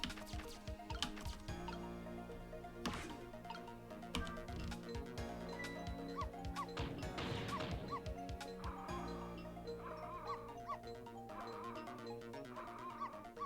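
Small dog barking in the video game Ghost Trick: Phantom Detective, sharp repeated yips and whimpers scattered over a quiet, steady musical background tune.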